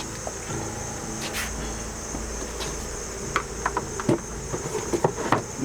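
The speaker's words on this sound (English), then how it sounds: "All these bees out here now will be in here." Honey bees hum and drone around a hive entrance outdoors, a faint steady buzz with scattered light taps and ticks growing more frequent toward the end.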